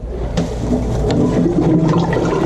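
A Jabsco Quiet Flush marine toilet flushes, a loud close rush of water with a low pump rumble that holds steady throughout, with no talking.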